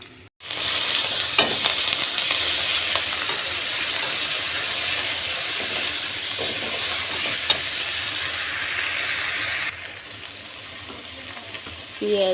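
Onion and garlic frying in a wok, a loud steady hiss of sizzling oil with occasional stirring clicks, cutting out abruptly near the end before resuming briefly.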